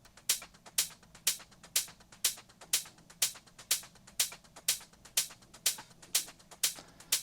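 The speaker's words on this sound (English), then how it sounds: "I can play you the hi-hat section" A short open hi-hat pattern from a progressive house track ticks in a steady, tight rhythm, with crisp bright hits and smaller shaker-like ticks between them, up front and alone.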